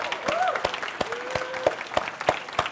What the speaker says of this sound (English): give yourselves a round of applause, everyone.